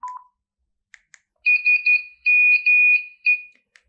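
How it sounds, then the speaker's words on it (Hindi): Alarm ringtone from an E-Tachi Star One feature phone with a 2.4-inch display: a bright electronic tone in several short bursts after a couple of clicks, loud and close with no talking. "अलार्म्स की रिंग टून"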